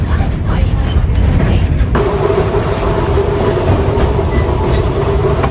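A train rolls along the tracks in Maramureș, Romania, with a loud, steady rumble and rattle, close and continuous, with a shift in tone partway through.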